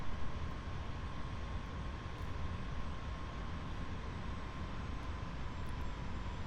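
A jet engine in the DCS World flight simulator over Normandy roars steadily, a loud, even wash of broadband noise with a faint whine, constant throughout with no talking.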